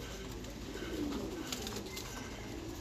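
Thai meat pigeons in a farm loft give soft, low cooing, steady and fairly faint against a busy background of rustling and distant chirps, with no talk.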